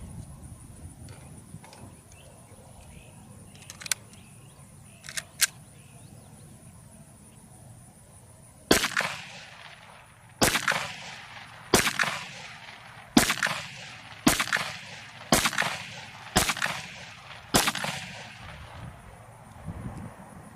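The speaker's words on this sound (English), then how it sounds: "I'm going to fire another mag now and see." A Sig P320 Spectre Comp pistol fired at a range: a few faint distant pops, then a close, loud run of about ten sharp shots spaced roughly a second apart, with quiet gaps between.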